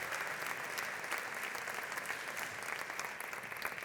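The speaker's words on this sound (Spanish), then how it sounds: "Voy a pedir otro aplauso para ellos." Sustained applause from a large audience at a foundation's 50th anniversary gala, a dense even wash of clapping filling the whole stretch without pause.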